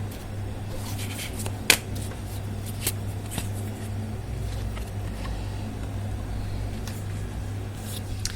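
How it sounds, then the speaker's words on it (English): Tarot cards being drawn and shuffled by hand, soft intermittent slides and riffles with one sharp snap near the start, close but quiet over a steady low hum. "So I'm going to pull out a card for advice for you."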